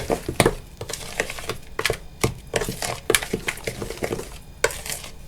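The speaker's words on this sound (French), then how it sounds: "On mélange." A spoon stirs apple cake batter in a bowl just after a pinch of salt goes in, giving quick, close, irregular clacks and scrapes against the bowl with no talking.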